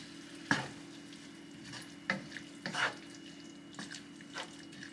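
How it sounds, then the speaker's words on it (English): Stir-fried vegetables and a sauce mixture are mixed in a pan: a soft, low sizzle broken by a few sharp spatula scrapes and knocks. "So I'm going to add the mixture we just made into the pan. Mix it all up."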